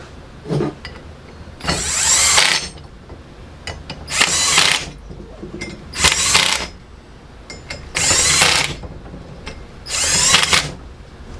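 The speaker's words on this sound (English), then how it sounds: "Then we got to get the torque wrench out" Power tool driving bolts on a Ford 9 inch rear end during a spool and ring and pinion install, five loud whirring bursts of about a second each, spaced evenly with short pauses between them, close by.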